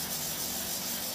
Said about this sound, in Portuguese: Vai lixando na paz, na calma